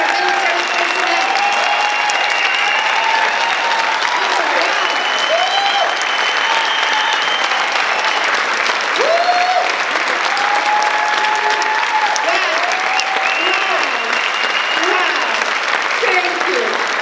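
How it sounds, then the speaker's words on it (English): A large audience in Twin Falls, Idaho applauds veterans and military personnel with sustained, loud clapping that fills the room, while scattered voices and cheers rise through it. "remain standing after the applause"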